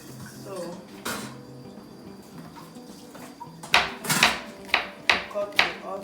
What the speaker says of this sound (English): you cut the okra, slice it this way.